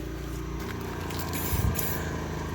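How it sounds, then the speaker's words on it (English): A spray can hisses steadily as touch-up paint goes onto a van in the rain, close and continuous with small bursts and a brief sputter midway, engine-like hum faintly underneath. "Now I know it looks like I'm just randomly spraying, and actually I am"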